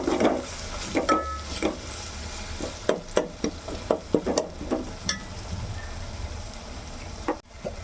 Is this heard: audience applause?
no